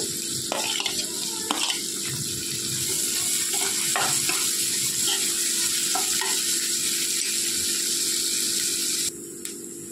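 Dry fish curry with green chillies frying in a pan, with a steady loud sizzle throughout and occasional stirring clinks and scrapes.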